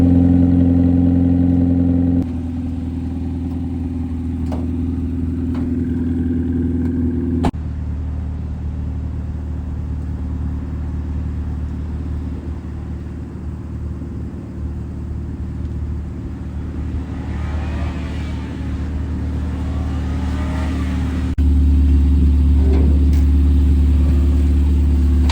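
A car pulls away and drives off, a steady mid-range engine drone that holds and slowly eases, with a brief louder rumble near the end.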